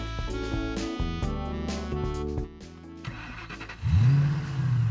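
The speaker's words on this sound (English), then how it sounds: "Okay, let's try to turn it on now." A car engine cranks and catches near the end, a rising rev swelling up under bright, busy background music in a children's show setting.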